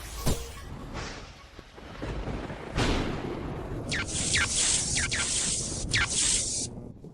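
A thunderstorm sound effect in which loud booming cracks of thunder roll in the first seconds, followed by a series of sharp, hissing lightning zaps strung out in quick succession near the end.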